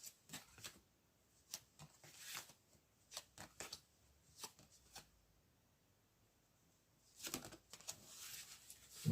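Tarot cards being shuffled and drawn, soft riffling bursts and papery slaps in irregular clusters, quiet and close with short pauses between, ending in a longer flurry of shuffling; no speech.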